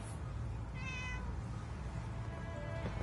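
A cat named Ellington meows in Fallout 4: Far Harbor, a single drawn-out call against a steady low background hum, then a fainter second meow near the end.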